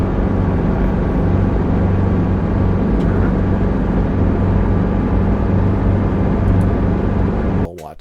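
A helicopter lifts its upper skid off a hillside and slides away during a slope landing, giving a steady, loud engine and rotor drone with a constant low hum that runs unbroken until a brief disturbance at the end.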